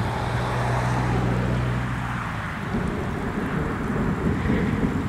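A supercell thunderstorm over Germany brings steady heavy rain mixed with a deep rolling thunder rumble that fades after a couple of seconds, all loud and continuous with no voices.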